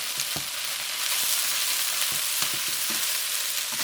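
Onions frying in a pan make a steady, bright, fairly loud sizzle throughout, with scattered soft clicks and pops from stirring.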